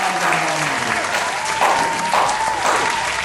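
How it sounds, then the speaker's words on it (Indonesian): Applause from a quiz show audience greets contestant Mas Helmi after a correct answer, a continuous, full crowd clapping under a faint sustained musical tone. "Tepuk tangan untuk Mas Helmi."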